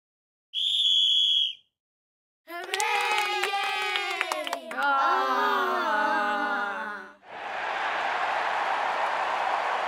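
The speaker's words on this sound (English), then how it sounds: "a whistle sound" Steady, shrill synthesized whistle in the game TANKS, about one second long, followed by kids cheering, then a larger crowd cheering and applause, all loud and up front.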